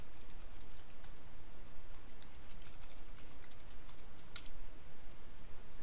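Soft, rapid keystrokes on a computer keyboard while entering a search term, faint and steady throughout against a constant background hiss, with one slightly louder click near the end.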